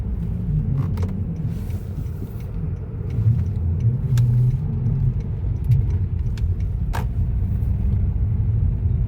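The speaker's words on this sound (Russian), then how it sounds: "Посмотрим, как машина едет" A repaired Nissan car on a test drive, its engine and road rumble holding a steady, loud drone throughout, swelling slightly partway through as it picks up speed.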